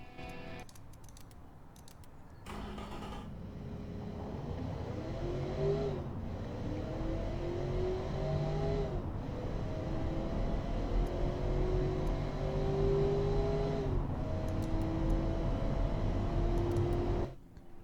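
A 2002 Athena UL5 sedan in the Automation car game accelerates from 0 to 100, its simulated engine rising in pitch through several gear changes, steady and fairly loud, with a few keyboard clicks before it starts.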